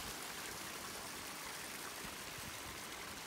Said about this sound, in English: There's definitely water up here, and you're going up the creek.